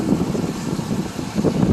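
Wind at Niagara Falls, Ontario, buffets the microphone with a low, rumbling roar that swells and fades in gusts, close and fairly loud, with no voices.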